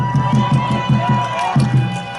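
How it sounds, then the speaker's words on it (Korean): Crowd at a Korean political rally clapping in a steady rhythmic beat, moderately loud with a murmur of voices and a droning hum underneath. "박수 한번 쳐주세요."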